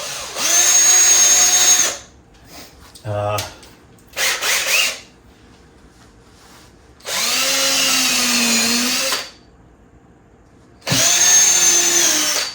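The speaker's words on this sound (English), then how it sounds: "I want to drill a couple of small pilot holes" A power drill whines in three bursts of a few seconds each, drilling small pilot holes for Venetian blind brackets, with short clicks and rattles between them.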